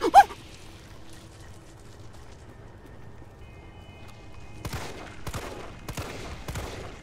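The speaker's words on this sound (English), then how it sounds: "I don't think a simple pistol round's gonna help, but I'll try it." Pistol shots ring out in Resident Evil 3 Remake: a sharp report at the start, then several quick cracks in a cluster near the end over a low ambient game background.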